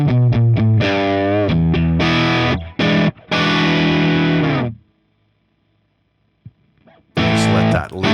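Distorted electric guitar recorded in stereo with a ribbon mic and an SM57, loud sustained chords and short chugged stabs that stop abruptly, then a near-silent gap with faint handling noise before the chords return.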